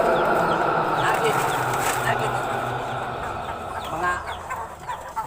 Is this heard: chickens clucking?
yes